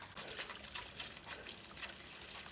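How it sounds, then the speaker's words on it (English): Water overflowing from a cattle-hauling tank, a steady close gushing and splashing flow with no talk. "I had the water turned on. That's already overflowing."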